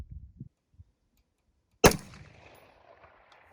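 A single sharp rifle shot from a DDM4 V7 Pro SPR cracks out loud and near at a range, trailing off in a long rolling echo after a few faint low thumps.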